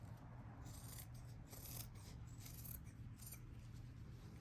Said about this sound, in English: So I'm just trimming on an angle.